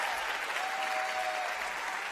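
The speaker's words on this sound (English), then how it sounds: "How about another round of applause for Ashley" An audience applauds steadily at an evening school event, a dense, sustained wash of clapping throughout.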